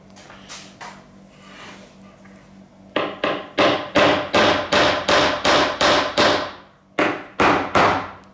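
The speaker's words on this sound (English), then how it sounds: "what we're going to try and do is to bash those screws out" A hammer bashes screws out of old pipe organ parts from an 1865 Forster & Andrews organ: a few light taps, then a steady run of about a dozen loud, sharp, evenly spaced blows close up.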